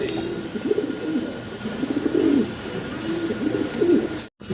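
Several fancy pigeons, including a pair of Velvet Shields, coo repeatedly nearby, low throaty rolling calls overlapping in a steady rhythm against a soft background hum.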